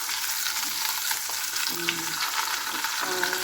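A thick pork chop fries in a pan, giving a constant close sizzle with crackling spatter and a brief scrape or stir partway through, with no talking.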